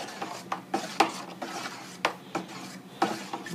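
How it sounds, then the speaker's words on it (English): Wine being stirred in a plastic fermenter during secondary fermentation of an Italian wine kit, a series of scraping, knocking strokes at an irregular rhythm, close and moderately quiet. "stirring that in."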